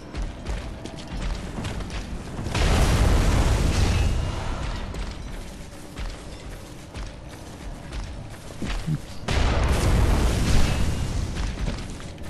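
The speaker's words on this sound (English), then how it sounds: "Almost got shot by the cannon there" Cannon fire in the dark action game Bloodborne: two heavy booming blasts several seconds apart, each swelling into a long, loud rumbling roar over a quieter stretch of footsteps and clatter.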